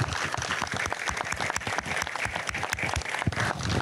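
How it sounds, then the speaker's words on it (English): An audience gives Mayor Skip Campbell a round of applause at an indoor ceremony, dense, lively clapping held at a steady level throughout, with no talking. "Please let us have a round of applause in his honor."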